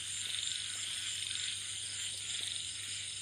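Frogs croak steadily in a chorus through a quiet night-time setting, a dense continuous calling with a low steady hum beneath and no voices.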